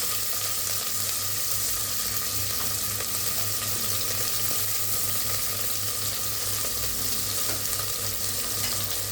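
Onions frying in hot oil with fennel, cinnamon and cloves for a kuska rice dish, a steady, close hiss and crackle of sizzling that stays even throughout.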